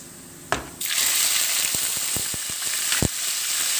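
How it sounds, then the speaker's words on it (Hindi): Onions hit hot oil already crackling with cumin seeds and a pinch of asafoetida, bursting into a loud steady sizzle after a sharp splash, with several distinct knocks of a spoon against the pan over the frying. "प्याज को भून लेंगे।"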